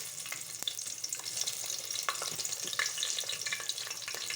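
Green chilies frying in oil in a pan for tomato rice make a steady, moderately loud crackling sizzle throughout, dotted with small pops and spatters.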